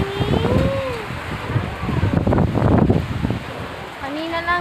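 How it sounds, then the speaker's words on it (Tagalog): Strong wind roars and gusts against the microphone over a hiss of heavy rain, with faint high tones rising and falling. "ang lakas ng ulan at hangin."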